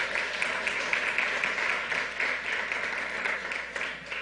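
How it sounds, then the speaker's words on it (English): A crowd at a governor's COVID-19 briefing claps for a mayor in a steady, moderately loud wash of hands, even and continuous across the short stretch. "let's give her a round of applause"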